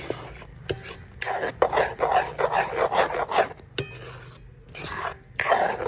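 Aval halwa, a sweet of beaten rice flakes cooked with coconut milk, is scraped and stirred in a pan, giving repeated rasping strokes at a close, steady level with short pauses between them.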